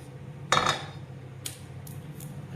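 A knife slicing palmyra tuber (panangkizhangu) into pieces, heard as one firm crunchy cut followed by a few lighter, softer cutting strokes, fairly close, with no talking.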